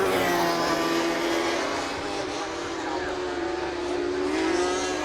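Rallycross race cars run at Croft circuit during the RX150 final of the 2017 British Rallycross Championship, their engines making a loud, continuous high-revving roar that swells and eases slightly, close by and without talk.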